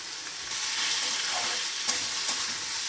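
Chopped tomato goes into vegetables already frying in a pan, bringing a loud, steady hiss of sizzling oil with faint stirring and scraping scattered through it.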